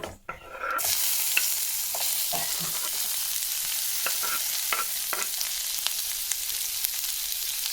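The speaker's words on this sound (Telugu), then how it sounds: "జీలకర్ర కరివేపాకు బాగా ఫ్రై అయింది. ఇప్పుడు ఆనియన్ యాడ్ చేసుకుంటాము." Onions hitting hot oil with cumin and curry leaves for a Telugu dal curry, a steady close sizzle with intermittent spoon stirring and scraping in the pan, no voices.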